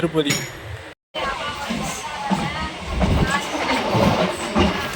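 A MEMU passenger train running from Chennai to Tirupati, heard from onboard as a continuous loud rumble with clattering wheels and rattling carriage noise, briefly cut to silence near the start.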